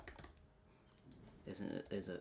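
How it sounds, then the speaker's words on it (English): Typing on a previous-generation Apple Magic Keyboard: soft, quick clusters of key clacks in bursts, close and fairly quiet, with a person talking over the keys. "The keys feel and sound good."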